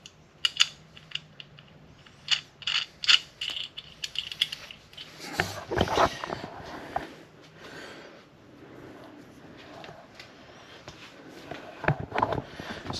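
A ratchet tightening a lock nut with a stainless washer on a high-mount A/C bracket during an LS engine swap, bursts of quick clicking strokes and metallic handling, close and intermittent, with occasional faint noises between.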